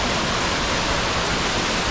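Water trickles down a rock face from a small waterfall, a steady, loud, hissing wash close by with no pauses, and no voices.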